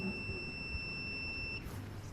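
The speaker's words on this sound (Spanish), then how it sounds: "Suena la alarma otra vez" An electronic alarm sounds from a student digital systems project, a timer-controlled water-drip device. It gives a steady, thin, high-pitched buzzer tone that holds for about a second and a half and then cuts off.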